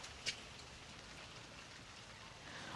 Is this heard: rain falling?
yes